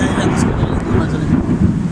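A strong storm in Mecca with heavy rain and gusting wind makes a loud, continuous low roar of wind buffeting the microphone.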